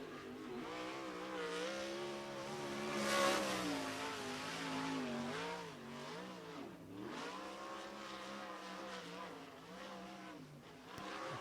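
Wing 360 sprint car running a qualifying lap at a dirt oval, engine note rising and falling through the corners, loudest as it passes near then easing into steady distant revving down the straights.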